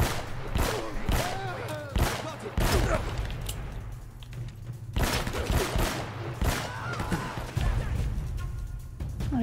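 Gunfire during Uncharted: Drake's Fortune, with scattered shots and bursts ringing out at moderate distance across several seconds amid game effects and intermittent sounds.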